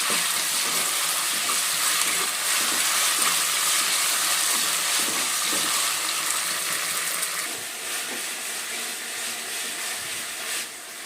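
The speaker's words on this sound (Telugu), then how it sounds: "అల్లం వెల్లుల్లి పేస్ట్ కొంచెం పచ్చివాసన పోయేలా ఫ్రై అవ్వాలి" Ginger garlic paste frying in a pan for dalcha, a continuous bright sizzle and hiss with faint stirring scrapes, close and steady, easing slightly softer toward the end.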